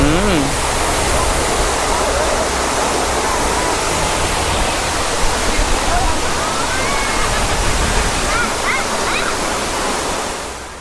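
Rushing water pours at Jokkadin waterfall, a loud, continuous roar close by for eleven seconds, with faint voices under it.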